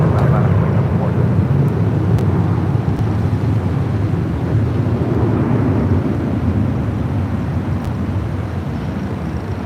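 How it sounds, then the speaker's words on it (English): At LAX a Bombardier Global 6000 business jet rolls for takeoff, giving a loud, sustained engine roar with a broad rumble that holds steady throughout. "This Global 6000 is taking taking off to Burbank."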